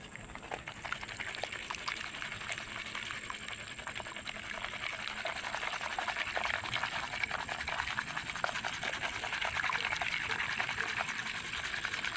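Soil sample being panned in water for flour gold from a backyard fill pile, giving a steady sloshing, swishing wash of water and grit that runs continuously and fairly close throughout.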